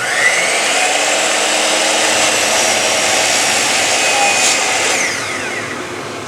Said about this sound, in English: We do that on a chop saw.